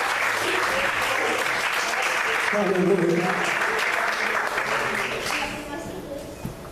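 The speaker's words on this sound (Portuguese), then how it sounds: "Pode aplaudir o Senhor" A congregation applauds during an evangelical church service, with sustained crowd clapping over which a preacher's voice speaks and calls out.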